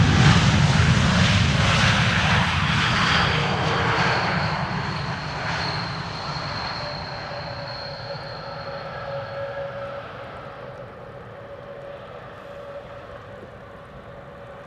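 An airliner on arrival from Boston passes overhead while landing on runway 18R at Amsterdam Schiphol, a loud broad engine roar with whining tones that fades steadily into the distance over about fifteen seconds.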